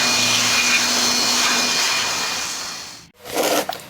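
A blower blasts dust out of a dead 12V DC power supply during repair, a loud steady rushing hiss that runs for about three seconds, cuts off briefly, then bursts again close by.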